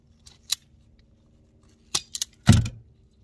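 A ground wire for RV storage lights is cut and stripped, giving a few sharp, close snips and a brief scraping tug, separated by quiet pauses.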